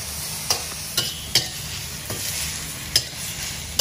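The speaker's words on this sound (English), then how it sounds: "now you mix well" Leafy vegetables being stirred in a hot pan with sauce, giving a soft steady sizzle broken by several crisp scrapes of a utensil against the pan at irregular intervals, close and with no voices.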